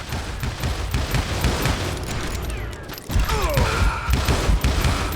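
Heavy gunfire erupts in a Wild West shootout from Call of Juarez: Gunslinger, with a double-barrel shotgun among the weapons, loud dense booming shots layered over constant battle noise and a brief lull midway.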